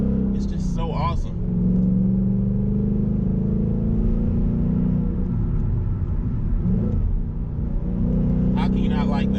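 A Ford Mustang engine rumbles close by with a low, steady throb and a slight rise in revs, while a person speaks briefly at the start and end.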